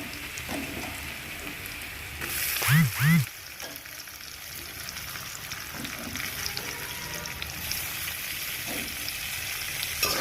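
Onions fry in a pan in a continuous, moderately loud sizzle, with occasional stirring scrapes and a brief pair of rising tonal sounds partway through.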